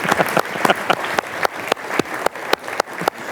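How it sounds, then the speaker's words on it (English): Audience at an employee service awards ceremony applauding honorees, sustained clapping with several sharp, close claps standing out in a fairly regular rhythm above the crowd's softer applause, loud and near. "Keep clapping."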